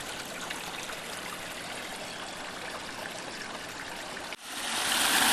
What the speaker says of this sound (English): Ah, the beautiful waters of the Flat Branch Creek.